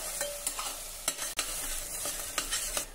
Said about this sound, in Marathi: आता मंद आचेवर हे वाटण छान आपल्याला परतून घ्यायचं आहे.